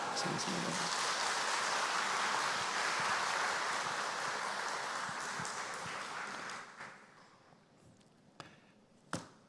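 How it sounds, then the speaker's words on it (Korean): A church congregation greets the arriving bishop with loud, dense applause that holds steady for several seconds, then thins and fades out, leaving a few scattered claps and taps near the end. "우리 박수로 환영하겠습니다"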